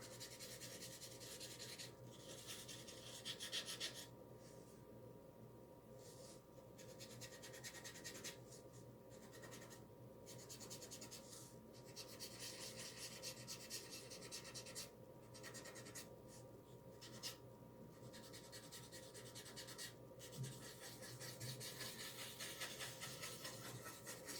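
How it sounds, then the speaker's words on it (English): Chalk paste being rubbed by hand into a transfer on a neon-look art sign, a steady, quiet scratchy rubbing with brief pauses and no talking. "This one I'm going to try to rub in a little bit more."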